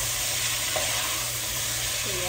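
Pork sautéing in a pan for pinakbet, a steady broadband frying hiss with faint stirring scrapes, close and continuous with no talk.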